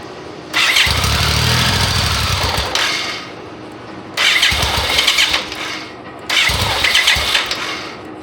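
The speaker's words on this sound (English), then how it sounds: "I'm going to start cranking it" A BMW K75RT motorcycle engine cranks over in three separate loud bursts of starter churning, each lasting a couple of seconds with short pauses between, close up and with no voices.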